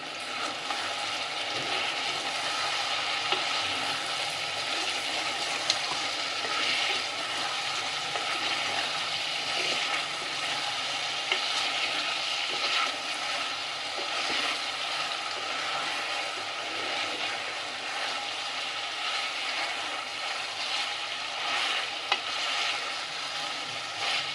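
Steady, even sizzling of chicken frying in oil, continuous and fairly loud throughout with occasional faint clicks and stirring noises.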